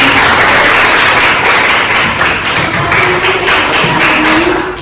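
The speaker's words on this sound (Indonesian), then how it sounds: "Tepuk tangan semuanya" Classroom students clap together after a microteaching lesson, a dense, steady patter of many hands held close for about five seconds before tapering slightly at the end.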